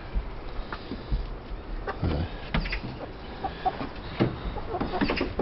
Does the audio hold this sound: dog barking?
no